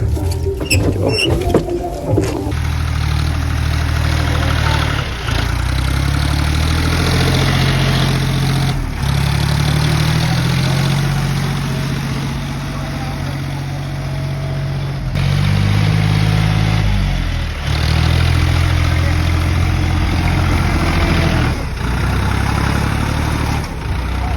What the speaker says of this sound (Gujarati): આજે તો નૈમેશના ટ્રેક્ટર ચલાવવા આવી દીધી ફાઇનલી.